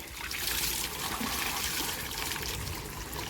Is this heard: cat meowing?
no